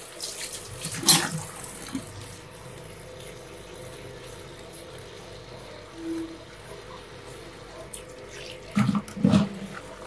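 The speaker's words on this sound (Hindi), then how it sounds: "प्याज हमारा कटिंग हो चुका है। मैं इसको अच्छे से धो के" Tap water runs steadily at a moderate level while freshly chopped onions are rinsed in a home kitchen sink, with a few brief splashes and clatters along the way.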